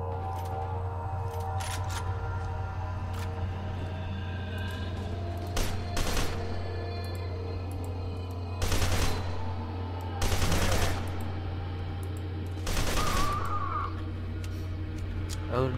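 Gunfire erupts in a firefight in F.E.A.R. 2, with several short, sharp bursts of shots standing out over a steady low game hum and faint background sounds.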